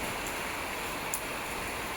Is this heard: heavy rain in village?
yes